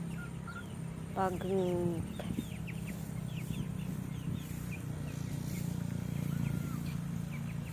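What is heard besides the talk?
chickens clucking in a village yard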